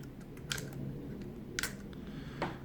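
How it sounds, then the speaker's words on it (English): Wingsland S6 selfie drone arms snapping open, three short sharp clicks spaced about a second apart over a low steady background hum, close and fairly quiet. "So the wings fold out, of course, and they have a nice, satisfying click to them."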